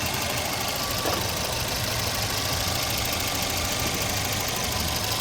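A 1995 Volvo 940 engine runs just after a jump start, with a failed alternator wire. It holds a steady, loud idle with a close, even drone throughout.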